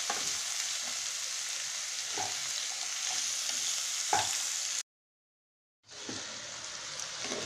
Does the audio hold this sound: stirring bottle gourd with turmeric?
yes